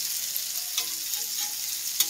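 Sardines roast on a flat iron tawa in a thin film of oil, giving a steady close crackling sizzle with a few sharper pops.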